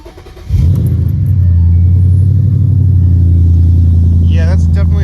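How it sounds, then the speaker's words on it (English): A car engine cold-starts through a BBK X-pipe exhaust, cranking briefly and then catching into a loud, steady deep idle rumble that runs on close by. A voice speaks faintly near the end. "Yeah, that's definitely a bit louder on cold start."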